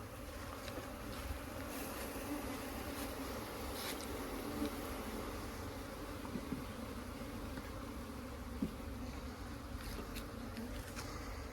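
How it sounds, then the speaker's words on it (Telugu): A swarm of honeybees hums steadily around wooden hive boxes in a deep forest, a continuous low drone with scattered nearer wingbeat passes, soft and unbroken for over ten seconds. "అక్కడి నుంచి తీసుకొచ్చిన తేనెటీగలు ఇవే."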